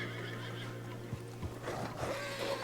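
A horse whinnies in the Western video game Red Dead Redemption 2, a drawn-out neigh over a low steady hum with soft hoof thuds, growing louder toward the end.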